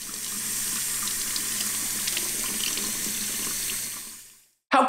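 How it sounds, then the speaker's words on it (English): Dry-aged tuna having its seasoning rinsed off under a kitchen tap, with a steady, close rush of running water that cuts off abruptly near the end. "So I'm gonna rinse off all this seasoning and then we're gonna see what we're left with."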